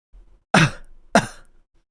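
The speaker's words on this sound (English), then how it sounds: "Brown coughed." Two short, dry coughs in quick succession, close and clear against silence.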